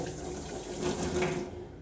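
Water is poured into a vessel for cooking in a home kitchen, a short, soft, steady splash and gurgle that fades slightly at the end.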